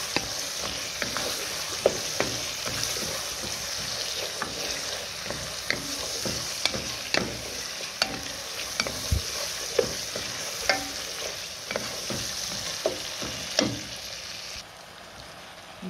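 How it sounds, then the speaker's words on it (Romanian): Onions fry and sizzle steadily in a pan while a utensil stirs them, scraping and tapping irregularly against the pan over a constant soft hiss, with no talking. "amestec mereu în ea, ca să nu se prindă, să nu se rumenească rău"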